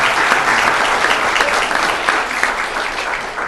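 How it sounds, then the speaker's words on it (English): Sustained audience applause for the Santa Ana Monarch cheerleaders at a city council meeting, a dense steady clapping wash that stays loud and even throughout with no break. "So if we could give them a round of applause."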